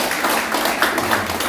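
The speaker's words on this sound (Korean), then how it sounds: "우리 25회에서 박수 좀" Crowd applause from a Busan High School 25th-class alumni gathering: a dense, steady wash of many hands clapping together, fairly loud and even throughout with no pauses.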